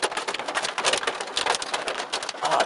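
Pea-size hail in Londonderry, New Hampshire, falls during a severe thunderstorm, making a dense, steady patter of pellets striking surfaces nearby, heard alone without talking.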